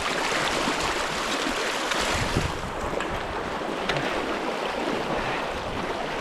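Rushing river water flowing steadily and loudly during a river crossing on foot, with wind buffeting the microphone; no talk.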